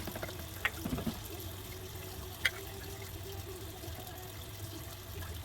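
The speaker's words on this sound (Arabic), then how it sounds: "قلت اغسل الطبقين دول بالمرة" A kitchen sink tap runs in a steady low trickle while two plates are washed, with a couple of faint clinks of dishware against the basin.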